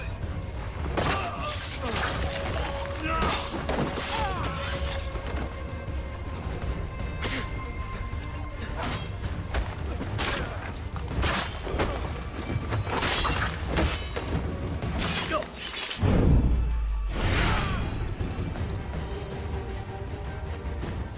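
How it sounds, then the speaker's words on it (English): A powder keg is shot and explodes in the Assassin's Creed video game, heard as a deep, heavy blast rising over a steady backdrop of clattering in-game noise and scattered sharp cracks. "You just find a powder keg laying next to the cargo and then shoot it."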